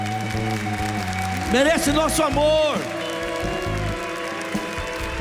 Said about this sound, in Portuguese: Sim, merece o nosso aplauso